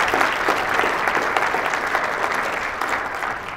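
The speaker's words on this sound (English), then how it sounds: "The applause should be directed at the result, not at the duration" A large audience at the RootsTech genealogy conference breaks into dense, sustained applause that fills the hall evenly throughout.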